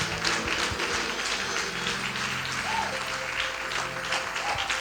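A church congregation applauds steadily to acclaim Jesus, a dense, sustained wash of clapping from many hands with no break, close and fairly loud.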